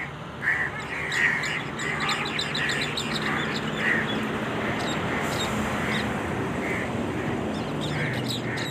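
Crows fighting give repeated harsh calls that rise above a dense, noisy background of other bird chatter, steady and fairly loud throughout.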